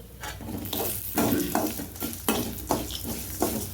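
Coriander seeds frying in a pan for kollu rasam, a steady loud sizzle broken by repeated scraping strokes of a spoon stirring them, close and without talk.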